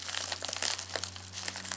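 Hands work at the strong adhesive seal on the packaging of an Orico SATA hard drive power switcher, making steady, close crinkling and crackling of plastic throughout.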